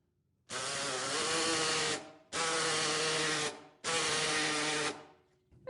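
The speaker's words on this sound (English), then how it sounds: "using the striker reciprocating saw, we rasp out for the augment" A Stryker reciprocating saw rasps into a bone model in three loud, near bursts of rough buzzing, each lasting about a second and a half with short pauses between.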